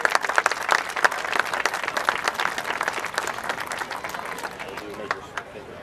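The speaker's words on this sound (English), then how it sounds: "I just want to ask everyone to give the Morabel brothers a round of applause" A crowd at a youth baseball season-opening ceremony applauds award recipients with brisk clapping that peaks early and fades toward the end, with voices murmuring underneath.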